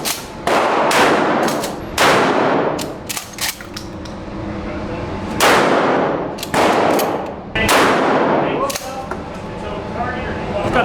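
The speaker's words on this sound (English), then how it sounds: "The 870 Remington pump action." Remington 870 pump-action shotgun and other guns firing at an indoor shooting range, a series of sharp loud booming blasts at irregular intervals with echoing tails, close by.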